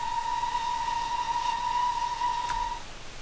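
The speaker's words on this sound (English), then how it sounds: "What does the whistle sound like?" Steam whistle of a GWR Star Class locomotive in Train Simulator 2016, a steady sustained tone with bright harmonics held for nearly three seconds before cutting off, over a faint hiss.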